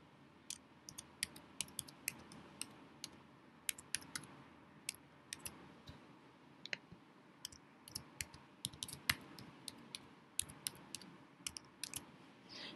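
Someone types a password on a computer keyboard, a quiet run of short, irregular clicking keystrokes close up in a still room.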